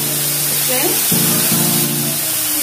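Cumin seeds hit hot oil for a Punjabi rajma tadka, giving a loud, close, steady sizzle and crackle that runs throughout the short moment.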